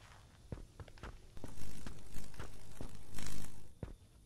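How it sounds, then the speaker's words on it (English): Someone running in the video game Greyhill Incident: a string of quick footsteps at an uneven pace, fairly close, over a low ambient rumble, with no talking. "I actually hear someone running."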